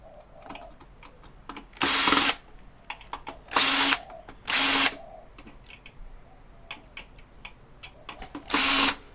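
A power drill or driver removing heat sinks from scrapped circuit boards: four loud, close bursts of whirring, each lasting under a second, separated by small clicks and rattles of the metal parts.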